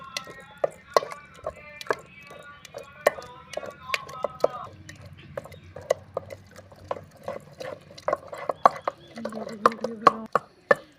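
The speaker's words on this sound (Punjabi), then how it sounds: "ਨਾਲ ਦੀ ਨਾਲ ਜੀ ਘੋਟਣੇ ਦੇ ਨਾਲ ਘੋਟੀ ਜਾਵਾਂਗੇ" Wooden ghotna pounding and mashing saag with cornmeal in a pot, a steady run of sharp, close thuds and wet squelches with small liquid splashes between strokes.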